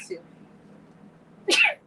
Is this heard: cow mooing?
no